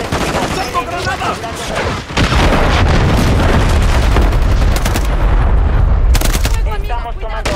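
A grenade bursts amid gunfire during a hardcore-mode match of a military shooter, heavy booms and rattling shots filling the scene continuously and loudly, with a player calling out over the chaos.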